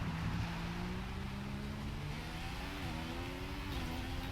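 A Formula 1 car engine revs in the F1 2015 racing video game, a continuous loud droning whine that shifts pitch up and down as it accelerates, with no talking.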